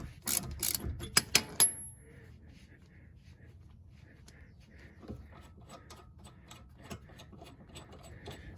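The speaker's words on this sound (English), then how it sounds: "So just crank on it till it gets tight." Ratchet wrench cranking on a control arm nut of a 2005 Mercedes C230 Kompressor, with a few sharp loud clicks at the start, then quieter intermittent ratcheting ticks and faint clinks.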